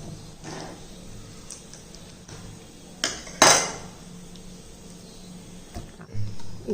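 Chicken being cut with a knife and dropped into a mixer jar: faint taps on a board, then a sharp metallic clatter and clink, followed by a few softer knocks, all fairly close and quiet.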